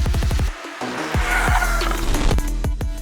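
Hyundai i20 hatchback cornering hard, its tyres squealing loudly in a few short bursts over the close engine note.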